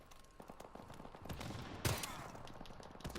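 An M1014 shotgun fires in a video game: rapid sharp shots crackle in a busy exchange, with one especially loud blast near the middle and more shots around it.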